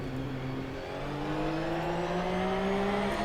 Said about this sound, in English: Loads of wild Porsches.